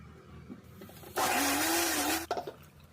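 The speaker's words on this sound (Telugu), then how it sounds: "చల్లార పెట్టుకొని మిక్సీ పట్టుకోండి." An electric mixer grinder blending moringa soup whirs loudly for about a second, its motor pitch climbing, then cuts off abruptly.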